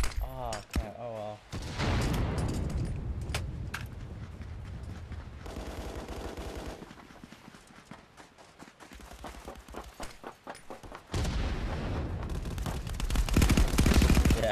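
Rapid bursts of automatic gunfire ring out in an online shooter video game, coming in several sharp volleys with brief pauses between them and a faint voice now and then.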